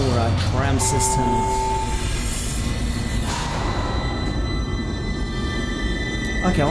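Tram train moving through a station in the sci-fi horror game Dead Space, a steady loud rumbling rail drone with tonal whines throughout, under game sounds.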